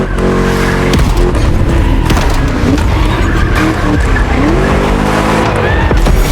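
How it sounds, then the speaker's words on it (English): A V8 muscle car engine in a racing video game roars and revs hard under constant loud noise, with rising and falling pitch and squealing tires, intense and close. "Just listen to that V8 like a chunky, down-tuned guitar riff."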